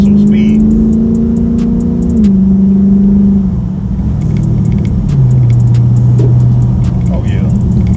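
Engine of a Dodge Charger 392 Widebody pulling hard under acceleration, a loud steady rumble whose pitch climbs and shifts across gear changes, with someone talking over it.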